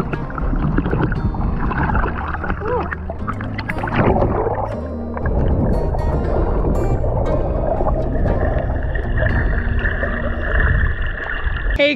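A motorboat engine roars close by, its rumble shifting as it passes, with splashing water throughout, in the sea off the Bahamas.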